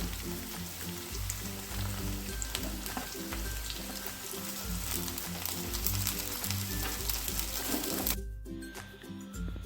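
Onion, garlic and mixed vegetables fry in hot oil for a spicy chicken pasta, a dense, steady crackling sizzle with low rhythmic stirring pulses underneath, continuous and close until it drops away sharply near the end.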